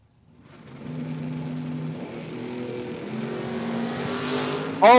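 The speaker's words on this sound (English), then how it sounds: "you could hear the brakes screeching out there" Drag race cars at a door-car drag racing event roar loudly in a steady sustained engine drone, building slightly, with a sharp high squeal of brakes or tires bursting in right at the end.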